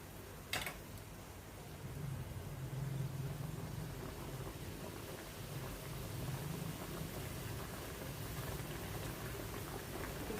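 Fish curry boiling in a pot for a green fish curry, a steady close bubbling and rolling hiss that carries on without pause, with a brief sharp clatter near the start and no talking.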